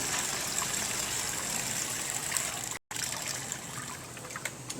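Water still draining from an air pruning pot makes a continuous trickling, dribbling hiss, cut by a short silent gap, then carrying on steadily to the end.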